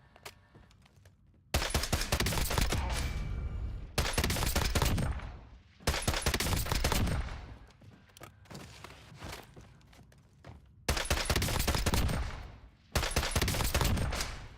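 FJX Horus fired in Warzone, heavy full-auto bursts in several long sustained strings separated by brief pauses, loud and close with dense rattling recoil.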